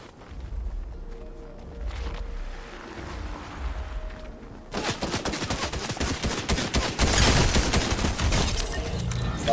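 SMG gunfire in a video game, rapid dense bursts of shots rattling close and loud in the second half after quieter ambient rumble.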